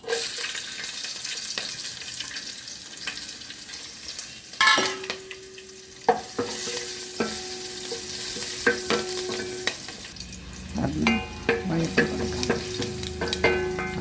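Sliced green chili, ginger and garlic sauté in a pan with a steady close sizzle, broken by spoon clinks, scraping stirs and occasional knocks against the pan, with no talking.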